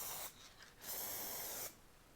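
Aerosol can of spray paint releasing two hissing bursts, a short one then a longer steady spray of about a second, close and alone with brief pauses between, during wooden plane and router base plate work.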